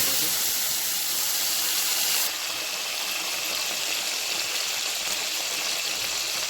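Prawns frying in hot oil in a wok, a steady, loud sizzling hiss that runs throughout and grows brighter partway through, with no talking.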